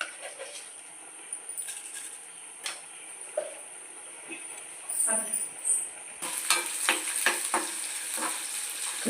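Cumin seeds dropped into hot oil while making a gongura coconut chutney with green chillies: a soft sizzle that swells into a steadier crackling fry, close by, with occasional spoon taps.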